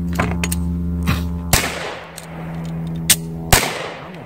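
Glock 19 Gen 2 pistol fired at an outdoor range: four or five sharp, loud single shots spaced irregularly, each with a short ringing decay over a steady low hum.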